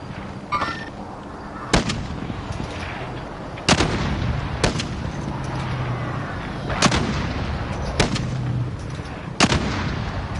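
Sharp single gunshots in Call of Duty Warzone ring out at irregular intervals, about six loud cracks over a continuous low battlefield rumble, with no voices.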